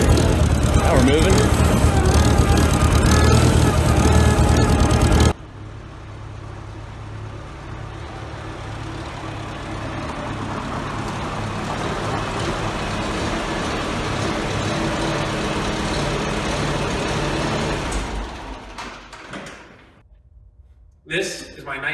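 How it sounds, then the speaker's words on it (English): 1948 Farmall Super A tractor driving, a loud rough engine roar at first that drops to a steadier lower running drone, then fades near the end, with someone talking over it. "This is my 1948 Farmall Super A."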